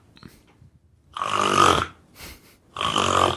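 A man imitates snoring with his voice, producing two long, loud, rasping inhaled snores separated by a short snort, close to the mic with no other talk.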